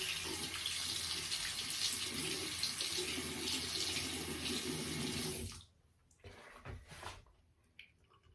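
A bathroom tap runs steadily for rinsing during a wet shave, a close, even rush of water that cuts off sharply partway through, leaving a few faint drips and handling sounds.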